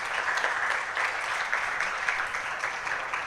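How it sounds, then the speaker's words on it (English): Audience applause at a live tech talk, a short steady patter of many hands clapping at moderate distance, even in level throughout with no voices over it. "Can we give him a round of applause?"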